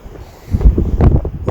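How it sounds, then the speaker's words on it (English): Low, gusty wind on a mountain buffeting the microphone, rumbling unevenly in short bursts over about a second and a half. "A little windy today."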